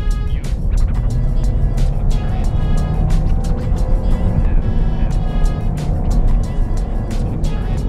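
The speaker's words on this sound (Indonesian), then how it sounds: "sekarang gua akan coba sedikit ajak mesin 1500 cc nya untuk diajak akselerasi" A Toyota Avanza with a 1500 cc engine accelerating on the road, a steady loud drone of engine and tyre noise that rises as it gathers speed, heard from inside the car with no talking.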